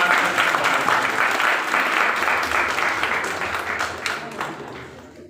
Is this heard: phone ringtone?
no